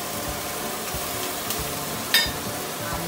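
Beans, carrots and peanuts fry for poha in a home kitchen, giving a steady, even sizzle close by. A spoon scrapes and stirs now and then, with one sharper clink near the end, and no one speaks.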